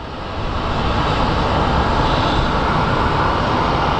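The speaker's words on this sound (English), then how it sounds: "We have quite the lineup of American aircraft getting to the departure zone of the end of the runway." American airliners queue at the runway departure end at Phoenix Sky Harbor airport, their engines making a loud, steady roar that stays constant throughout with no talking.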